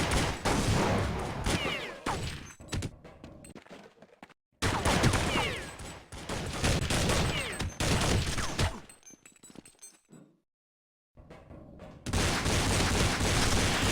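Gunfire in the Counter-Strike map de_train, loud bursts of rapid shots and cracks broken by short silent gaps, dense and close.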